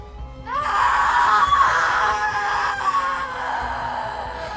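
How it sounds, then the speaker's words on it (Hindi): A drawn-out eerie scream in a horror story, rising sharply then wailing and moaning for several seconds, loud and close as a sound effect with a faint low rumble beneath. "छलावा ने चीख मारी"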